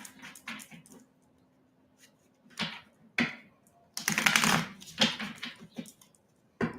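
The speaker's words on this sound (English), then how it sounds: "I think this deck is really shuffled now." A tarot card deck being shuffled, with irregular bursts of riffling and tapping card noise, loudest in a dense flurry midway, then a few separate snaps.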